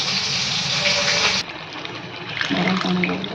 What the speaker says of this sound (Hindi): इहादे इ स्टेज रे आमे इथरे पानी देमा जेतकी पानी दरकार जेतकी झोल करमा सेतकी पानी देमा।